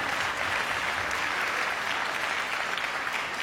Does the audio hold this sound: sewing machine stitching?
no